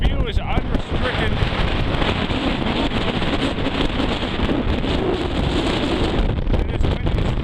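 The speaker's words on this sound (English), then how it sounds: "It is windy as hell too." Strong, steady wind roars and buffets across an exposed microphone on a mountain summit for the whole stretch, loud and continuous, with low gusty rumble throughout.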